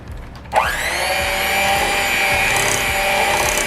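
An electric mixer whirs to life, beating cake batter with two eggs; a loud, steady motorized drone with a high whine runs continuously after a brief quiet start.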